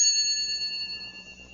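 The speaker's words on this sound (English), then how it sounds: "turn the page whenever you hear this bell" A single bright bell ding rings out once to signal turning the page, its clear high tones sustaining and slowly fading in otherwise quiet surroundings.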